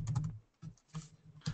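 Quick bursts of typing on a computer keyboard, close and fairly loud, with a few clustered keystrokes separated by short pauses.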